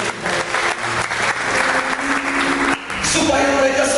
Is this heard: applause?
yes